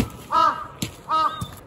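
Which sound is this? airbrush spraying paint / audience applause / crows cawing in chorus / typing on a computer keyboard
crows cawing in chorus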